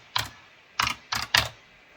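Number keys tapped on a computer keyboard while entering a price: four short, crisp clicks, a single one followed by a quick group of three, close and clear with no talking.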